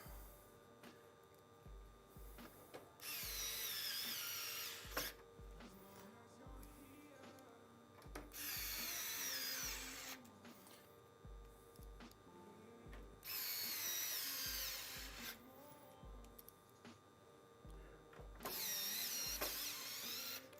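A small powered screwdriver drives screws into a PC case during a Corsair 5000T build, giving several bursts of close whirring a few seconds long, each separated by quiet pauses and handling noise.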